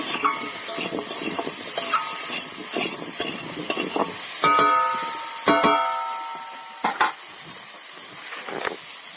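Fish curry ingredients frying in a pan while being stirred, with steady sizzling and repeated scraping, clinking strokes of a spoon against the metal, close and loud.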